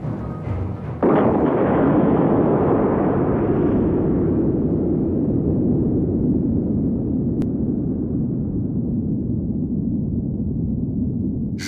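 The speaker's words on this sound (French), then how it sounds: "une bombe atomique est lancée à 8000 mètres d'altitude" Atomic bomb detonated at 8000 m altitude over the southern Ural steppe during a Soviet nuclear test: a sudden loud blast followed by a sustained, heavy rumbling roar that slowly dulls over about ten seconds.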